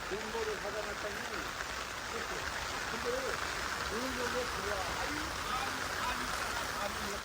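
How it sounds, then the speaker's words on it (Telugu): Steady rain falls on farm fields in Korea, giving a constant close hiss throughout while someone talks over it. "వాన ఈరోజు అంతా పడుతుంది రాత్రి నుంచి పడుతూనే ఉంది"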